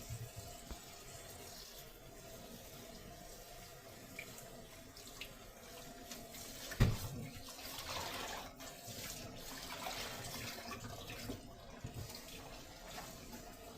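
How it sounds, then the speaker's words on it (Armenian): Tap water runs steadily into a kitchen sink while greens are washed beneath it, quiet and even, with a brief louder splash midway. "հոսող ջրի տակ լավ կլվանամ"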